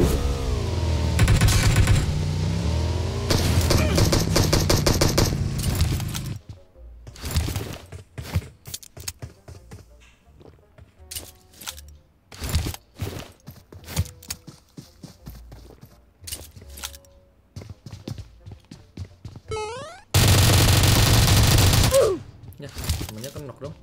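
PUBG Mobile gunfire in a solo squad hardcore match: sharp shots ring out in irregular bursts, some in rapid strings, with loud continuous stretches near the start and end, while someone talks over the action.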